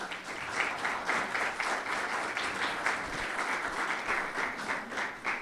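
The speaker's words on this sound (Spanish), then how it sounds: "Para la maestra María Luisa Santos Escobedo, pido respetuosamente un fuerte aplauso." A crowd applauds a guest speaker at an evening lecture on historic cities, a dense, steady clapping that carries on alone for several seconds without any voices.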